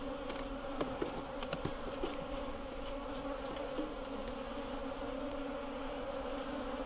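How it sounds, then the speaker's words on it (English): A dense, steady drone of many bees around a hive, close and continuous, with a few faint clicks and no talking. "Okay, lots of bees."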